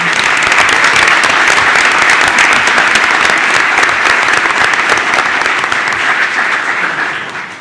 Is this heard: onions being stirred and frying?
no